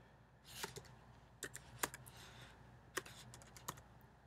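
Quiet typing on a computer keyboard: scattered key clicks at an irregular pace, with a few sharper taps standing out, close but soft in a hushed room.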